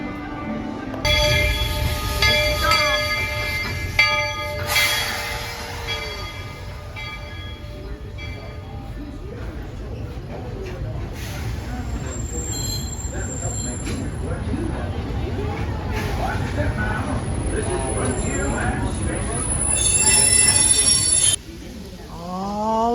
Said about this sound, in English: We are waiting on the train. There's our tracks.